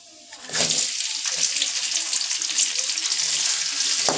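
Chopped onion, curry leaves and green chillies hit hot oil in a pan with a sudden loud hiss that settles into a steady, close, continuous sizzle.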